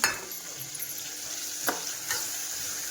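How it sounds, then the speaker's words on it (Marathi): Onion, tomato, curry leaves and capsicum sautéing in a pan, a steady close hiss with a couple of sharp stirring scrapes, no talk. "तर हे छान परतलं का नाही, कांदा टमॅटो कढीपत्ता आणि शिमला मिरची हातच टाकले."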